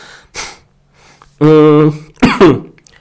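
A person with a cold coughs and clears their throat several times, close and loud, with brief pauses between the harsh bursts.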